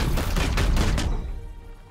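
A quick burst of several gunshots fired from a firearm in the tactical game Chaos Gate: Daemonhunters, loud and close, cutting off after about a second into a fading tail.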